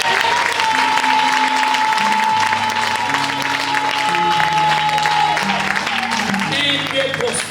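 A large church congregation in Paris applauds and cheers continuously, a dense roar of clapping and voices throughout, with a sustained tone and shifting musical notes underneath.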